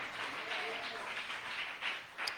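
Church congregation applauding during a Spanish-language evangelical sermon on spiritual house cleansing, a steady, fairly faint wash of clapping throughout with a couple of brief louder swells near the end.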